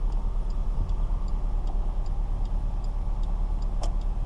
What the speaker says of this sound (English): Let's go turn signal to the left, we make our left hand turn.